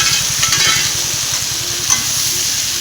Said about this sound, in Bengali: চিংড়ি মাছগুলো দিয়ে কচুরলতিটা একসাথে মিক্স করে দেবো।